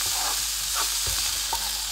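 A vegetable stuffing mixture for stuffed mushrooms being stirred in a sizzling pan, soft scraping strokes over a constant frying hiss, no voices.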